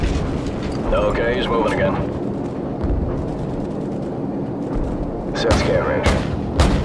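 Booming explosions from an aerial gunship strike in Call of Duty 4, heavy blasts rolling under radio chatter, with a strong hit early and another burst of impacts near the end.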